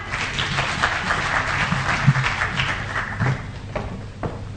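Crowd applause at a formal Kenyan public event honouring young Kenyans, steady clapping from a sizeable audience that holds at an even level for several seconds with a few louder claps standing out.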